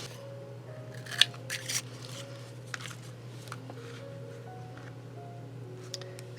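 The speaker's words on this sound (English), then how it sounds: "So I might cut a few of these out for this one." Scissors snip through coffee filters in a few quick close cuts early on, then paper rustles quietly over a low steady hum.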